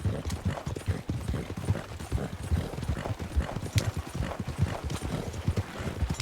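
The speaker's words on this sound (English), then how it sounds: "what we have here is we have a horse with buggy in flight." Horse hooves clip-clop steadily as a horse pulls a buggy in the video game Red Dead Redemption 2, a brisk, even rhythm of close, distinct hoofbeats over a faint rolling rumble.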